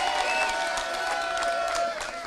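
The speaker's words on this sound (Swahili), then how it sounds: "Haya wajumbe wetu simameni mwapigie makofi." At a DCP party gathering, a crowd stands and applauds its delegates, a loud, continuous roar of clapping and cheering voices that runs the whole time.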